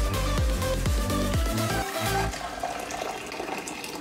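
Coffee strained into a cup in a home kitchen, a steady liquid pour and trickle with faint clinks, loud at first then settling into a softer continuous flow.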